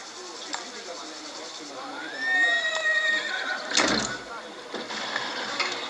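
Horses whinny in Mafia: The Old Country, a clear descending neigh in the middle followed by snorts and shuffling, moderately loud over a quiet background with voices nearby.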